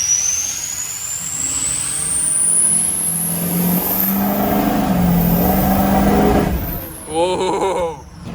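A Ford 6.0 Powerstroke diesel pickup fitted with an upgraded GXR-7 turbo pulls away at about half throttle, engine droning loud and close while a rising turbo whistle climbs steadily, then the revs drop near the end as someone talks over it.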